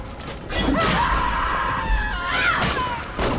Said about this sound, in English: they really do just scream bloody murder